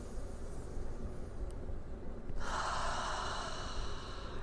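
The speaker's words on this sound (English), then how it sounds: "breathing in through your nose, out through your mouth, letting it go" Slow mindful breathing, a long soft inhale through the nose followed by a louder, airy exhale through the mouth, close and quiet with no talk over it.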